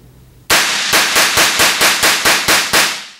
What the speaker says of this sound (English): a lot of y'all seen me shoot guns in the shop